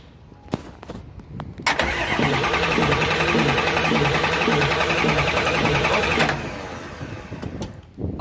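An Isuzu diesel engine is cranked by its starter, with a few clicks and then a rapid, loud grinding whir lasting about four seconds before it stops, followed by quiet shop background.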